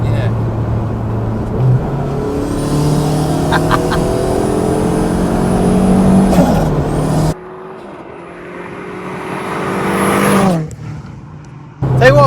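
A Saab-engined Vauxhall Cavalier SRi turbo cruises with a steady engine drone and rising gear-change pitch sweeps, the hum cutting down abruptly midway, then swelling again before another drop.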